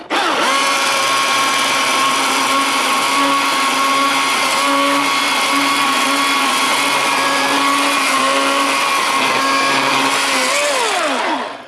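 A Milwaukee battery chainsaw runs with a loud, steady high-pitched motor whine and chain buzz for about eleven seconds, then spins down at the end. No voices.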